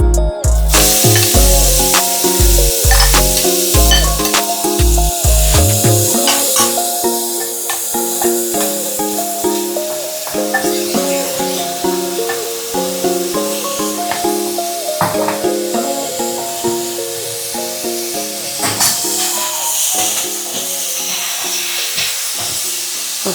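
Four chopped onions dropped into hot oil and frying for an egg kurma, a loud crackling sizzle that settles into a steady hiss with intermittent stirring clatter, no voices.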